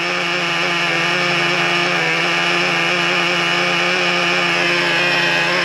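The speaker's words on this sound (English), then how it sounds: "A lot of engine noise on the RPM." Revo 3.3 nitro RC truck engine screaming at high RPM, a steady buzzing whine held loud and close for the whole stretch on a hot day, no voices over it.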